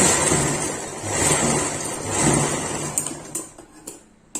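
A sewing machine runs steadily while stitching a blouse with thread piping, a continuous mechanical whir broken by short pauses and small clicks toward the end.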